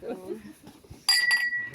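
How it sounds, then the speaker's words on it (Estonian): Glasses clink together in a toast at a Roosna-Alliku reunion, with a few bright, ringing chimes in quick succession after some low conversation, close and fairly loud. "Kõlisevad klaasid."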